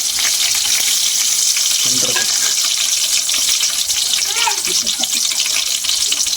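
Whole spices, including stone flower, marathi moggu and bay leaf, fry in oil for chicken biryani with a loud, continuous close sizzle and occasional stirring scrapes.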